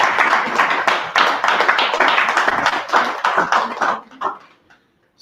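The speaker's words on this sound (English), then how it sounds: "Can we jump a round of applause to the management?" Audience clapping for the management at a corporate gathering, a dense burst of many hands close by that thins out after about four seconds into a few scattered claps before falling silent.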